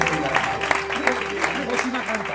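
A church congregation claps in a steady patter of applause, underneath a voice and some tonal background sound.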